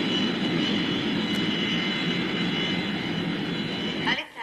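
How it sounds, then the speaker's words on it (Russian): Airliner landing at an airport in Australia, a sustained broadband jet-engine roar with steady whine tones that holds loud and close throughout, then cuts off abruptly near the end. "Произвел посадку самолет"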